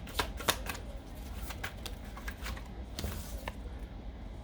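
A tarot card deck being shuffled close up, quiet riffling flicks and soft slaps in uneven bursts over a low background hum.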